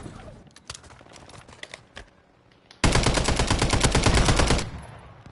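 Rapid automatic gunfire from an enemy shooting down from a rooftop in Call of Duty Warzone, a loud sustained burst of about two seconds after quieter scattered shots and movement noise.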